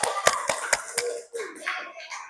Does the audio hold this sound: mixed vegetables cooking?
no